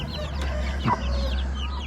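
Plymouth Rock chickens, hens with their chicks, give a single short cluck midway over a steady low background hum.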